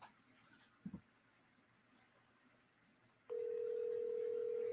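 A phone call on speakerphone: a faint dial tone and a small click, then a steady, loud ringback tone that holds on as the call rings out.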